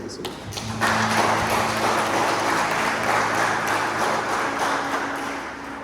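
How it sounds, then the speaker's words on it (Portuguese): A church congregation applauds the Lord during a revival service, a broad, sustained burst of clapping that builds within the first second and holds steady, with a low tone sounding beneath it. "Se você crê, aplauda o Senhor."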